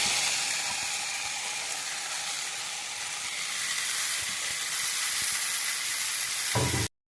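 Dhakai water spinach and fish roe frying with onions in a pan give a loud, even sizzle for several seconds that cuts off abruptly at the end.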